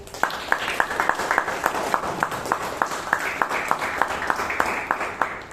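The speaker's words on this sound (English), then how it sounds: "give them a huge round of applause" A small audience at a Toastmasters meeting claps in scattered, sharp bursts, a modest steady round of applause heard from nearby.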